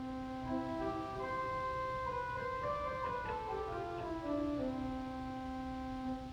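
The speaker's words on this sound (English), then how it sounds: "stop we have here on this organ is on the choir, and it's called Dulciana" Pipe organ playing the Dulciana stop on the choir division, a narrow-scaled, gentle open-diapason-like tone with a faintly stringy edge; soft sustained notes moving in a slow melodic line, alone.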